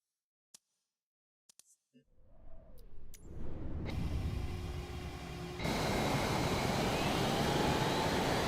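A jet afterburner in Microsoft Flight Simulator 2024 kicks in after a few clicks, building into a steady engine roar that jumps suddenly to a louder, brighter rush and holds there.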